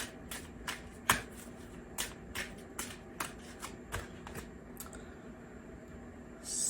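Hummingbird Wisdom Oracle cards being shuffled, a quiet series of soft, spaced riffling flicks and taps, close but faint with no talk.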